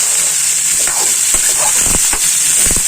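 Mutton and radish gravy sautéed in a pan, giving a steady close sizzling hiss with several scraping strokes of a stirring spoon toward the end.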